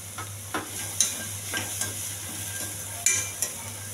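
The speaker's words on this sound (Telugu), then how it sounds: "అడిగట్టకుండా కలుపుకుంటూ ఉండాలండి" Spiced chickpeas (senaga) fry in a pan with a quiet, steady sizzle while a spoon stirs and scrapes them, giving a few soft, irregular knocks against the metal.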